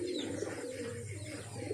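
A pigeon's low, rolling coo repeats in short gentle phrases nearby, with faint chirping in the background.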